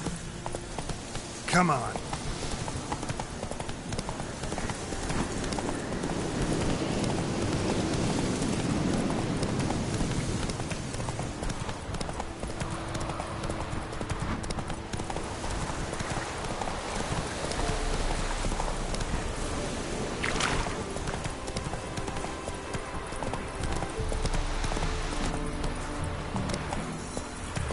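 Roach the horse clip-clops along in a steady walking rhythm of hoof strikes, fairly close, while someone speaks briefly over the sound.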